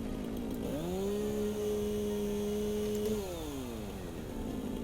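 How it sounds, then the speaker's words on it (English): A chainsaw in the factory-building game Satisfactory revs up and holds a steady droning whine for a few seconds while cutting down trees, then winds down, over a constant background hum. "that problem will be solved with the help of a handy dandy chainsaw"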